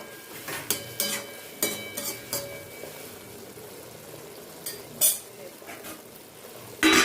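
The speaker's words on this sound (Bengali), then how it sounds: "নেড়ে চেড়ে দিচ্ছি।" Methi greens cooking in a covered pan are stirred with a utensil, giving a series of scraping, clinking strokes over a low sizzle, followed by a pause and a final sharp clatter like a lid being moved.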